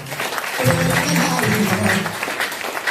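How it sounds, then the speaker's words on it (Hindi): An audience at a Hindi-language speech claps briefly, a dense close wash of applause for nearly three seconds, with a speaking voice briefly audible over it. "हाँ, तालियां बजा सकते हैं, बात अच्छी लगी।"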